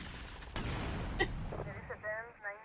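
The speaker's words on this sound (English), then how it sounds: "but I can just shoot the bike and die." Gunfire in GTA Vice City as a bike is shot, heard as a couple of sharp, loud bursts early on, followed by game noise and a voice talking.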